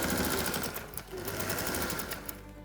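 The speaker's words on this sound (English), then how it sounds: "I'm going to sew 1/2 centimeter in." A sewing machine stitching binding onto a corset runs steadily, its needle chattering in a fast even rhythm, close and continuous with only a brief slowdown midway.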